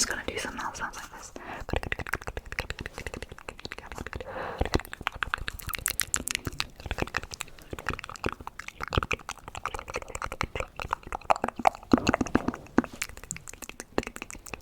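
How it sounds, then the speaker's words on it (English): Close, dense ASMR mouth sounds of wet clicks, pops and smacking in rapid irregular bursts, with soft whispery breath throughout and no clear words. "So I'm just gonna do some mouth sounds like this."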